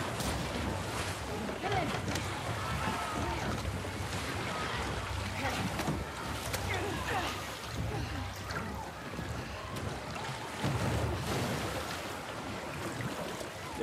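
A canoe is paddled across water in The Last of Us Part 2, with steady sloshing and lapping water under a soft wind-like hiss, moderate and continuous, the strokes blending into one wash.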